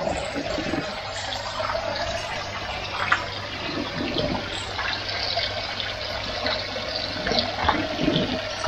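Water overflows from an aquaponics tank, a steady splashing trickle and gurgle running throughout at close range with no talk.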